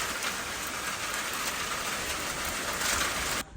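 Steady, dense rainfall in Germany hisses and patters evenly on surfaces throughout, then cuts off abruptly near the end.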